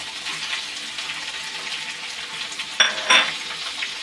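Potatoes frying in a pan with tomato, green chilli and grated ginger, a soft steady sizzle with brief louder hissing bursts near the end as ingredients hit the oil.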